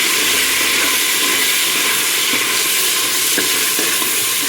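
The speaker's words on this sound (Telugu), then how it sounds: "అవి బాగా ఫ్రై అవ్వాలండి." Coriander, mint and whole spices sizzle in hot oil in a pan while cooking chicken pulao, a steady loud frying hiss with occasional stirring taps, no talk.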